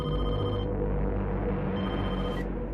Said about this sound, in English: No, they're calling her house phone.